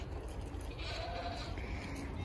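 Goat bleats at a goat farm cafe in Korea, faint and intermittent over steady outdoor background noise, with more distant goats seeming to answer.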